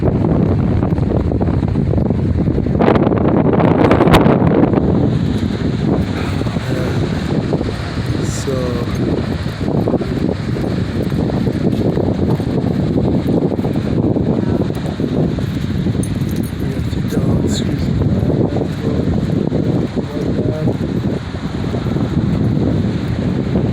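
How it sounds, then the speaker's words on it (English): Strong gusting wind rushes through bending palm trees, a loud, continuous roar with buffeting against the microphone throughout and a heavier gust early on. "The palm trees swaying in the wind, they're ready to blow over, man. The wind's so hard."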